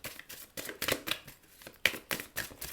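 Tarot cards are shuffled by hand in a series of short, crisp riffling bursts, close and fairly quiet, with brief pauses between them and no talking.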